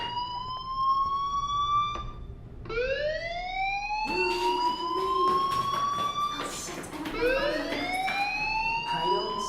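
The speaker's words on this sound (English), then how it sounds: "Hey, do you hear that fire alarm?" A school fire alarm in the game Life is Strange wails in repeated rising sweeps, loud and close, with overlapping siren-like tones and a few short knocks underneath.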